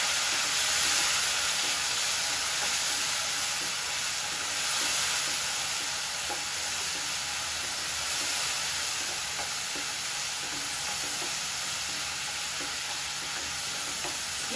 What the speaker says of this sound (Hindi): अब हम इसमें ये टमाटर पिसा हुआ डाल देंगे और इसको तेल छोड़ने पर भूनेंगे